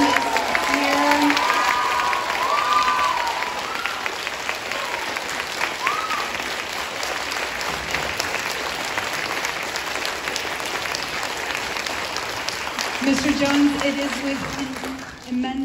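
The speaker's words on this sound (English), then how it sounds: "a huge round of applause for Mr. Jones" Sustained applause from a large audience at a school year-end concert in Shanghai fills the space, dense clapping with a few cheers and shouts mixed in.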